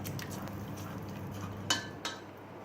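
Utensil scraping and clinking in a pot of Tunisian fish soup, chorba bel hout, being stirred; a steady low rumble runs throughout, with two sharp metallic clinks near the end.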